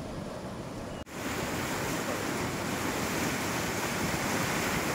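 A river rushes through the Huentitán ravine in the rainy season, a loud, steady wash of flowing water that fills the scene after a brief cut, with no voices.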